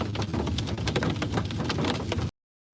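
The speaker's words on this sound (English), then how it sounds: "Big hail, covering the road." Big hail and heavy rain pound a road in a storm's hail core, a loud, dense clatter of scattered impacts over a continuous rushing roar, then cutting off abruptly; no voices.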